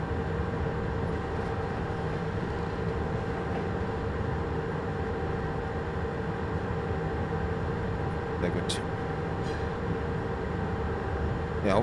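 Rumbling rail noise in Train Simulator Classic aboard a CFR Class 47, a loud continuous drone of trains passing with a couple of brief metallic clanks.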